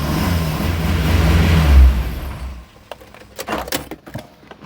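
A car engine revs hard and loud for about two seconds, a broad roaring surge that swells before cutting off, followed by scattered clicks and knocks at close range with no talk.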